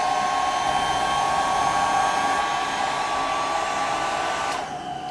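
A Revlon One Step hair dryer brush running on its cool setting, a loud steady close-up whir of fan and air that holds evenly and drops slightly near the end.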